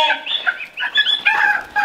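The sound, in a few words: turkeys calling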